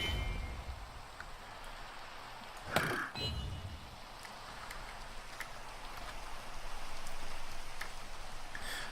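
Steady rain from the Minecraft video game patters softly and evenly throughout, with a brief louder burst near the middle; no voices are heard.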